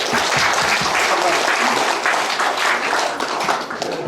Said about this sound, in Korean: 이 두 분들에게 좀 고맙다는 박수도 한번 쳐주시면 고맙습니다